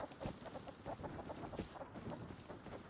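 Chickens in the survival video game Rust cluck in short, repeated bursts, fairly close and moderately loud, with a few sharper squawks as they attack; no talking.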